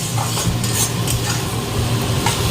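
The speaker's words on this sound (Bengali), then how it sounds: "পটলটা ভাজলাম তো ওই তেলেই শাক বসিয়ে দিয়েছি" Spinach cooking in the hot oil left after frying pointed gourd, a loud, steady sizzle close up with scraping and stirring of a utensil against the pan throughout.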